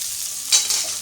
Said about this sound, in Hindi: इसको भून लेते हैं।